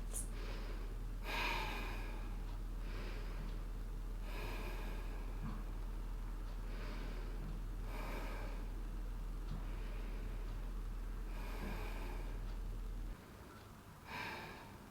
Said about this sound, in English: Settle in here for 4 deep breaths.